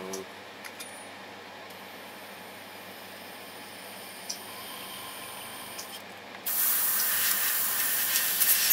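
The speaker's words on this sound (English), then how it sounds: "Unfortunately, my airbrush is no good." Clogged airbrush spraying white paint on a 1:4 vinyl figure kit, a faint hiss with small clicks early, then a sudden loud, steady spray rush in the last two seconds.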